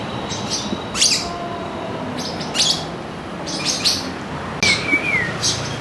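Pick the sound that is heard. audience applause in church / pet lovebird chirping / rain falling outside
pet lovebird chirping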